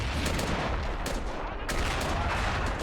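Dense battlefield gunfire and artillery from the trench warfare game AMOW, a loud, continuous clatter of rifles and machine guns with heavier blasts mixed in and no talk.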